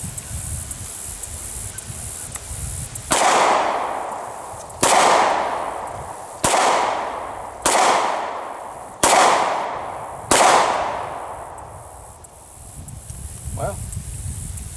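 A Glock 43 9mm pocket pistol fires six loud, close shots at an even pace, each a sharp crack with a ringing outdoor tail, followed by quiet rustling.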